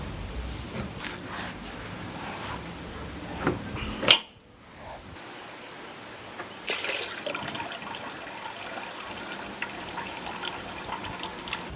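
Coolant drains from a Toyota Sequoia as its lower radiator hose is removed during a radiator replacement: a steady close splashing pour, with a brief clunk and lull partway before the flow resumes.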